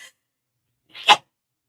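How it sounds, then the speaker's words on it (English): A single sharp sneeze bursts out close by after a brief pause, loud and abrupt, with only a faint sound before it. "I have to sneeze again"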